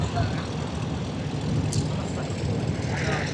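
Experimental airplanes taxiing in the Sun 'n Fun 2026 parade, with a steady propeller engine drone and a broad rumbling hum that stays moderately loud and continuous.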